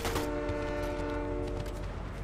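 A train horn from the video game Fortnite blares loud and sustained for about two seconds, its steady harmonic tones layered over busy game noise.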